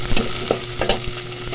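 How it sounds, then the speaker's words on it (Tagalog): Garlic sautéing in a pan, a steady close sizzle broken by a few scraping stirs from a utensil, with no talking. "Igisa natin yung bawang."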